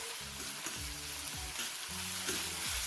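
Food frying in seasoned oil in a pot fills the clip with a dense, steady sizzle and crackle, heard close and alone, with rhythmic stirring or scraping knocks recurring beneath it.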